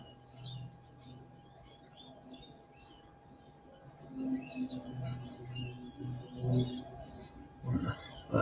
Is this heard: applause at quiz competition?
no